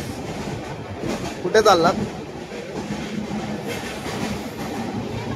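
A Konkan Railway passenger train runs along the tracks with a steady rumbling rattle, heard from inside a carriage while a person briefly speaks over it.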